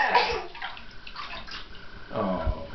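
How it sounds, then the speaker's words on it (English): Bath water sloshes and splashes in a tub with a baby, a few close, irregular bursts of splashing and gurgling with quiet gaps between. "Let's see a splish and splash."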